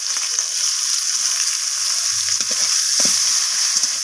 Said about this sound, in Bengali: এরপর আমি এখানে কেটে রাখা পেঁয়াজগুলোকে দিয়ে দিলাম